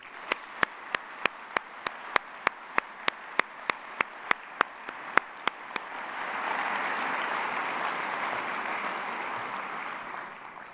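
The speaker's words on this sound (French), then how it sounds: "je vous propose aussi de les applaudir" At a university opening ceremony, a string of single sharp claps in a steady rhythm rings out alone at first, then swells into a broad, sustained round of applause from a large audience.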